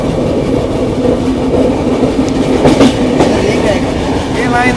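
Passenger express train, the AP Express overtaking the Grand Trunk Express, rumbling steadily and loudly with wheel clatter and hiss throughout, a continuous close rolling roar without pauses.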